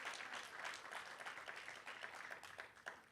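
A church congregation at a Spanish-language service applauds, a dense, steady patter of many hands clapping at low volume throughout.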